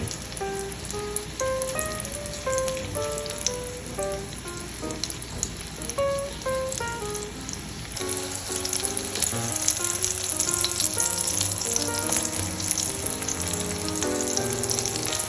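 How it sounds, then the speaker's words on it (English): Meatballs searing in a pan for a spaghetti dish, a loud, dense, continuous sizzle and crackle heard close up under background music that changes partway through. "Just want to gently move them around and slowly rotate them all and just have a little sear on each side."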